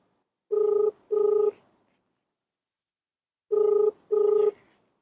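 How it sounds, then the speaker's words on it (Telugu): An unanswered phone call rings back: two pairs of short electronic ring tones, double-pulse rhythm separated by a pause of silence, heard alone. "మీరు కాల్ చేస్తున్న ఫోన్ ఎత్తట్లేదు, ఇద్దరు ఎత్తట్లేదు"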